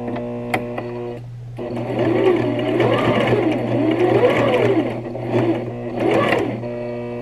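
A sewing machine stitches fabric during a first-time beginner sewing session, its motor whirring close and loud in sustained bursts that rise and fall in pitch as the stitching speeds up and slows down.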